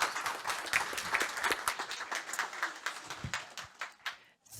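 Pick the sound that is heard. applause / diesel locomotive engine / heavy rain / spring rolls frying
applause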